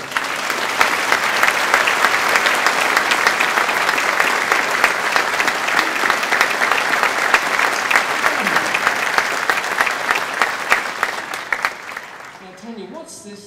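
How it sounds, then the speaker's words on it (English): A theatre audience at the Royal Theatre in Victoria, BC, gives sustained, full applause for a guest coming on stage at a Welsh Guards Band concert, a dense, steady wall of clapping that fades out near the end. "let's give her a round of applause"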